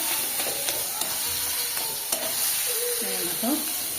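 Shrimp curry frying in a pan on a village kitchen stove, a steady oily sizzle and hiss throughout with a few clinks of a stirring utensil and a brief voice near the end.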